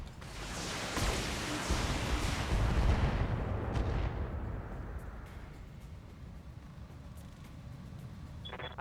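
Heavy weapons fire in the BattleTech video game, a dense rumbling barrage of booming impacts that peaks and then fades into a lower rolling din, with no talking.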